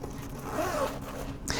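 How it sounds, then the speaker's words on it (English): A zipper on an Evergoods CIVIC Access Pouch is pulled open in one quick, close scraping run, ending with a sharp final tug. "Inside the pouch, you'll find another zipper back into that quick access pocket"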